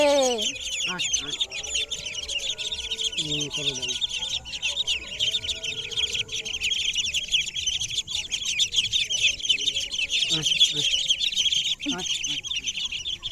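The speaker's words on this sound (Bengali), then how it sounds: "বড় বড় হাঁস আর এগুলো হাঁসের ছানা" Large ducks and their ducklings call together: a dense, continuous chorus of high, thin peeping runs throughout, broken by occasional lower quacks, all fairly close.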